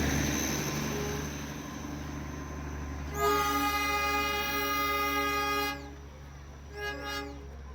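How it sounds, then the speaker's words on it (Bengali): Darjeeling toy trains passing, a pair arriving together near the war memorial: a loud sustained multi-tone horn blast of about two and a half seconds over steady rumbling, then a shorter, fainter toot. "বলতে বলতে আর একটা ট্রেন, দুটো জোড়া ট্রেন একসঙ্গে এলো"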